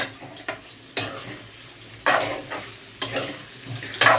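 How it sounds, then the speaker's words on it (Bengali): Tomato sautés in a pan with fried potato and cauliflower, sizzling steadily while a utensil stirs and scrapes in repeated sharp strokes about every half second to second, close and alone. "টমেটোটা এবার আলু ফুলকপির সাথে একটু সাতলাতে দেব"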